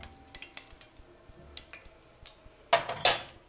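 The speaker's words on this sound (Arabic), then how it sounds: "هننزل بورق اللورا والقرنفل والحبهان، وندوهم تقليبه في الزيت" Bay leaves, cloves and cardamom stirred in hot oil: scattered light clinks of a utensil against the pan, then a sudden burst of sizzling near the end, close and without talk.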